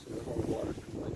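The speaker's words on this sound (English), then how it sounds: "And it's windy." Wind blows outdoors along a path on a cold day, a close rumbling gust buffeting the microphone continuously, with voices faintly present.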